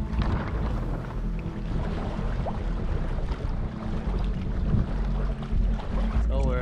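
A sailboat moving over open sea, with steady wind rushing across the microphone and waves washing against the hull throughout.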